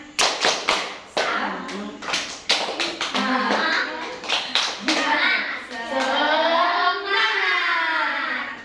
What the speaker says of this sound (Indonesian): Untuk mulai pembelajaran, kita tepuk semangat terlebih dahulu ya anak-anak